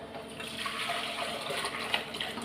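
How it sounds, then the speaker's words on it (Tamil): Buttermilk curry, mor kulambu, is poured from one vessel into another, a continuous close splashing, gurgling stream of liquid with no talking. "இதை வந்து நான் ஒரு பாத்திரத்தில் ஊற்றி வச்சுக்கிறேன்"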